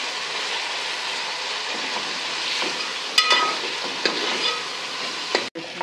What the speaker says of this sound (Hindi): आलू गल चुके हुए हैं इसको हम थोड़ी देर भूनेंगे पालक सॉफ्ट हो जाएगी